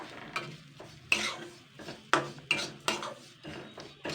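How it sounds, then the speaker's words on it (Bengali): A spoon scrapes and stirs turmeric, salt, sugar and cumin powder in a pan, several distinct scraping strokes at an uneven rhythm with a faint sizzle underneath, close and moderately loud, no talking. "এটাকে আমি এবারে হালকা নাড়াচাড়া করে নেব।"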